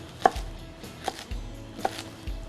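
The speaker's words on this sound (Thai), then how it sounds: "ต้นหอมเราหั่นเป็นต้องเล็กๆ นิดนึงครับ" A knife chopping green onions on a cutting board, three distinct sharp taps spaced apart, close and quiet, with no talking.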